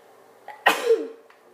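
A single sharp sneeze bursts out during a Minecraft play session, loud and close, with a brief breathy tail after it and quiet background tones around it.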